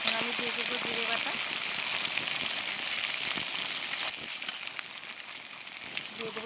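Onion, garlic and ginger paste frying in a pan for a rohu fish curry with potato and cauliflower, a steady close sizzle with light crackling, fading slightly toward the end.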